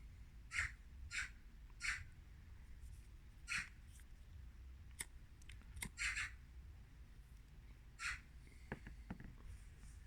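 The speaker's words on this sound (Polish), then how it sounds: "Ptaszki." Several loud, harsh caws ring out at intervals, a crow calling repeatedly against a quiet outdoor background with a few faint chirps.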